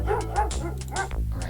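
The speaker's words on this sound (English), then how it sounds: "There's a dog barking." A dog barks in the retro police adventure game Police Quest: Open Season, a string of sharp, close barks and yips that repeat at an uneven pace over low background hum.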